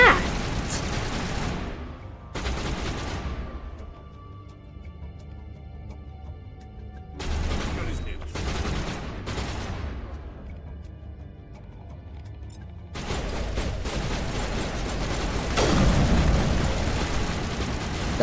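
Bursts of enemy gunfire from the Mass Effect video game: several loud, sharp volleys separated by brief quieter gaps, with a longer sustained stretch of shooting near the end.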